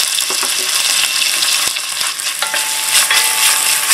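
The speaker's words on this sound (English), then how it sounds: "And saute them for about 5 minutes in a small and low to medium heat" Diced onion sautés in olive oil over low to medium heat for a vegan chili, giving a loud, continuous sizzle broken by a few stirring scrapes.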